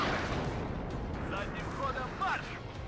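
Artillery fire in the real-time strategy game WARNO, a quiet, continuous rumble of distant shelling and scattered gunfire, with voices speaking over it.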